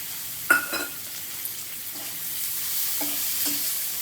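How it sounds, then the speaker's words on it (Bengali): Prawns fry with onion in a pan, giving a faint, steady sizzling hiss broken by a few light clinks and scrapes of stirring early on. No voices are present. "চিংড়ি মাছটা পেঁয়াজের সঙ্গে ভালো করে ভেজে নেবো"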